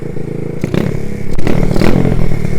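A pit bike engine with sluggish throttle response revs near and loud, its rough, clattering note rising in uneven bursts and surging near the end.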